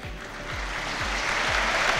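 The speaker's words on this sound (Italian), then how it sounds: "Sentite l'applauso, entra anche nelle nostre cuffie." Audience applause at a five-pin billiards world championship match, a steady broad wash of clapping that holds at an even level throughout, with a low periodic thumping underneath.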